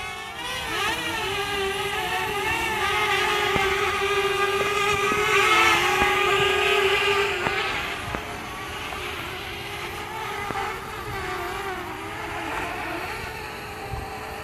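A Parrot Bebop drone flies and comes in to land, its high steady propeller whine close and continuous with a few small shifts in pitch, then easing slightly toward the end.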